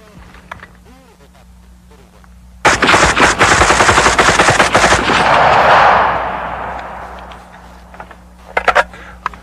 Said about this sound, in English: I'm going to try my best to hit those 5 targets with 20 rounds.